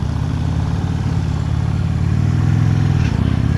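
A 2016 Harley-Davidson CVO Road Glide Ultra engine runs steadily nearby, its low throbbing idle continuous throughout, with a slight shift in tone near the end as the bike is put into gear.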